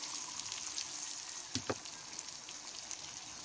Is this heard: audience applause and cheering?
no